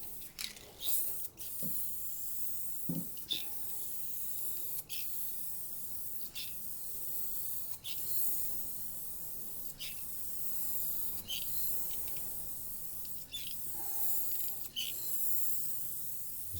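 A spray gun lays down the final coat of 2K clear coat in a series of hissing passes, each a steady spray lasting one to two seconds with short breaks between. The hiss is close, and faint background noise sits beneath it.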